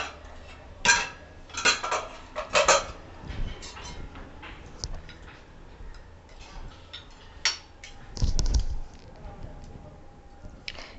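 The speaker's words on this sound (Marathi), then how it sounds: "आता आपण कुकर उघडून पाहूयात मटण कितपत शिजलं आहे ते।" Metal clinks and clatters as a cooled pressure cooker of cooked mutton is opened in a home kitchen, with several sharp lid and utensil knocks, a brief scraping thud, and quiet gaps in between.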